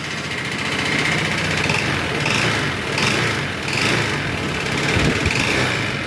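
A Honda ADV160 scooter engine, after a top overhaul, idles with a steady buzzing rattle, the pitch rising and falling slightly in gentle waves.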